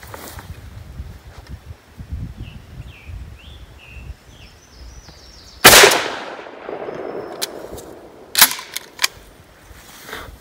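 A 12-gauge or 10-gauge shotgun fires a heavy turkey reload at an outdoor range, one sharp loud blast followed by fainter pops and clicks, with birds chirping faintly beforehand.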